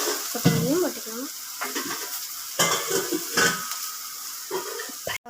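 Onion and curry leaves sauté on a mini uthappam tawa, a light sizzle broken by spatula scrapes and clinks against the pan, with a voice talking over parts of it.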